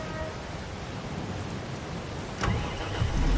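A tractor engine in Farming Simulator 22 cranks and catches, a sudden broadband burst followed by a steady, rising low rumble over constant background noise.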